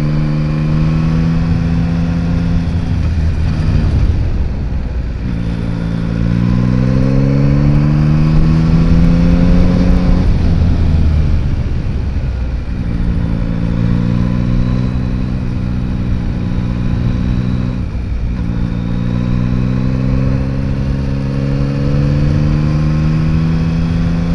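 A lightweight motorcycle ridden on a road revs up repeatedly, the engine rising in pitch through each gear, dropping briefly between shifts, close and loud, with no talk over it.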